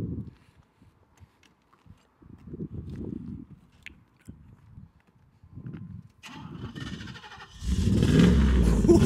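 A modified 3rd-gen Camaro Z28 muscle car cranks and fires up, its engine catching after scattered clicks and rustles and building to a loud, steady rumble near the end.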